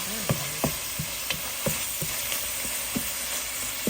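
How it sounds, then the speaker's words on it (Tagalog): Ground pork and sponge gourd (patola) being stirred in a frying pan, with a steady soft sizzle and repeated scraping strokes of a utensil against the pan at an irregular pace, close up with no talking. "Halo-halo lang tayo hanggang maluto ang ating bawang"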